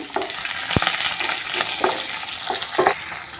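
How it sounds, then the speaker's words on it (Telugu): Green chillies and onions sizzle in hot oil in a pan as a spoon stirs them, a close, steady frying hiss broken by a few sharp scraping strokes and one metallic knock, with no one talking. "ఇప్పుడు ముందుగా పచ్చిమిర్చి వేసుకున్నామండి. దాని తర్వాత ఆనియన్స్ అన్నీ వేసేసుకున్నాము. ఒకసారి కలుపుకున్నామండి."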